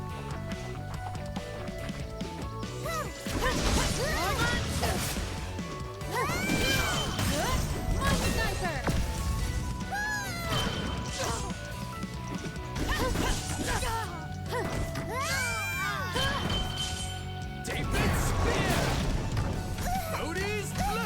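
Repeated smashing and crashing hits in the video game Fallen Legion, loud and dense, layered with footsteps, clattering combat effects and game voices throughout.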